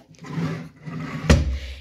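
A wooden drawer in a home craft studio slides along its runner, then lands with a single solid thump at the close, heard near and alone.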